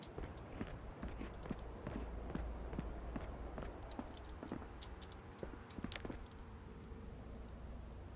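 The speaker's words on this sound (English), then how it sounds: "Okay, I heard footsteps" Footsteps in a video game: a continuous run of quick, regular steps at moderate loudness with no talking over them.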